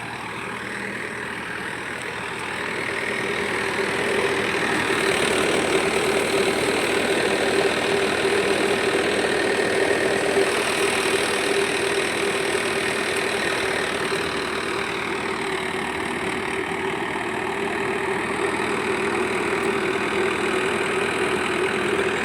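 A tractor engine runs steadily and loudly nearby on a farm during cumin harvesting, a continuous low throbbing drone with no talking over it.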